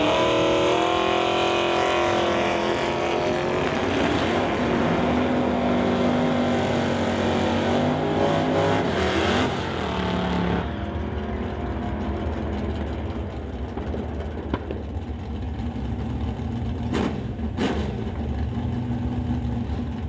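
A 1995 GMC truck drag races at a door-car event, loud engines roaring and climbing through the gears, then dropping off to a quieter drone with a few sharp clicks near the end.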